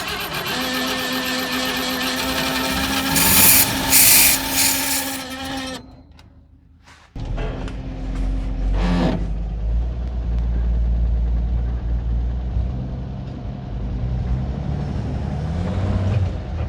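A 1960 International B120 truck, run for the first time since the 1970s after long storage, cranks and catches, then settles into a low, rough idle; a loud bleating-like squeal comes first, followed by a brief quiet gap before the engine note rises and holds.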